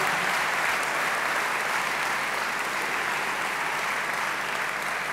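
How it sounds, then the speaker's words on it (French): Audience at a political party president's speech in Belgium applauds in a long, even wash of dense clapping, loud and sustained throughout with no talk on top. "Merci Benoît, merci Céline, merci de les applaudir et d'applaudir toutes leurs équipes"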